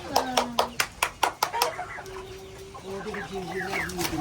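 Chickens cluck nearby, beginning with a quick series of sharp clucks that trail into softer, scattered clucking and calls.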